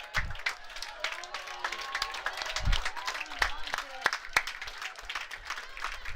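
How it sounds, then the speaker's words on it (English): Crowd at a European Confederation Cup youth baseball game cheering and applauding after a hit-by-pitch, a steady wash of claps and voices at moderate distance with a few sharper bursts of clapping. "most I've heard crowd cheering for somebody get a hit by pitch, as Dodo takes one"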